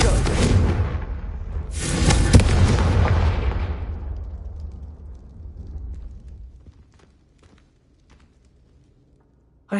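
A Confringo fire spell in Hogwarts Legacy bursts into two heavy, close explosive booms in quick succession, the second rumbling and fading slowly into near silence.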